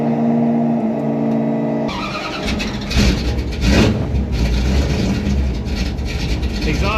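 A 1968 Plymouth Satellite with a new cam idles loudly, then its engine and exhaust rev up hard into a deep, throaty roar that stays loud and close, with road and tire noise.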